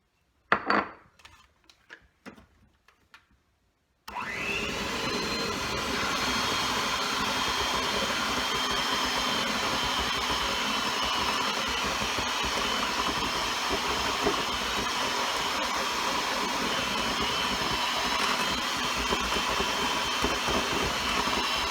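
Flour and melted butter are blended into apple cake batter. A few sparse clicks come first, then an electric mixer whirs steadily and loudly for a long stretch, without talking.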